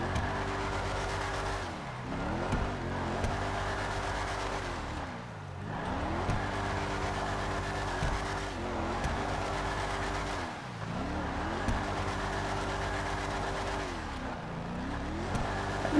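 A Declasse Mamba sports classic drifts in GTA 5 Online, its engine droning steadily and dipping and revving in a repeating cycle about every four seconds through each slide, with no other sounds over it.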